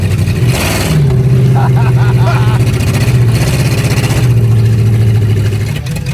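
Suzuki Samurai fitted with a 440 big-block engine revving loudly and steadily nearby, a deep sustained engine drone rising in pitch twice, with people talking over it.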